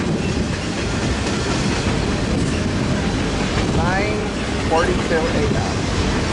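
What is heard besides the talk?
westbound manifest freight train passing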